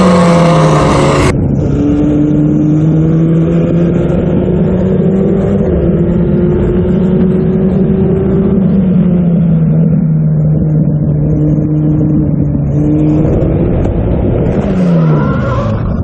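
Formula Ford race cars scream past at Road America in a 50th-anniversary race, a loud sustained onboard engine drone with shifting pitch after a sharp opening burst, the tone dropping and rising again near the end.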